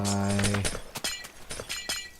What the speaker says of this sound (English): it's kind of a pity to take out all this glass